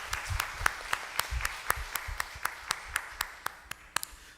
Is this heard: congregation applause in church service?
yes